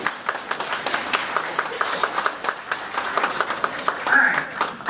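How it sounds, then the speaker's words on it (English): An audience claps during a storytelling session, giving scattered, moderately loud claps mixed with chatter and talk. "Clap, y'all, clap."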